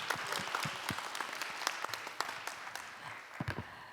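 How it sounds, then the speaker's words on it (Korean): A crowd applauds with scattered, irregular claps at a startup pitching competition, fairly faint and distant, continuing steadily for a few seconds. "박수 한번 쳐주시죠"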